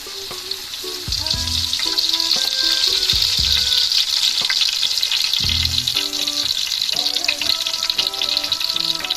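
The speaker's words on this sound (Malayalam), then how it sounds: "സവാള, ഉള്ളിയൊക്കെ ചെറുതായി വാടി തുടങ്ങി." Onions frying with curry leaves in sunflower oil, a loud, dense, continuous sizzle that swells after the first second, with occasional low knocks and scrapes from stirring.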